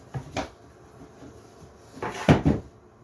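A cabinet door on a budget DIY router table swings open and shut twice, each time giving a pair of close wooden knocks and thuds, with quiet pauses between.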